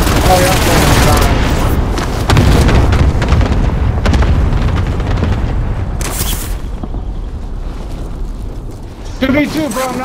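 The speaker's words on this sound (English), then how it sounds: "Cluster strike arriving." Heavy booming explosions from a cluster strike in a battle royale video game, a dense rumbling barrage that stays loud throughout, mixed with gunfire-like cracks and game voice lines underneath.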